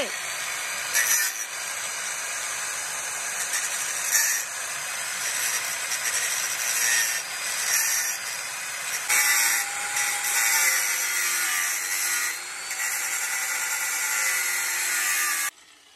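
Power tool cutting through a motorcycle silencer, a continuous harsh high-pitched grinding whine with brief changes in pitch as the blade bites, close and loud, stopping abruptly at the end.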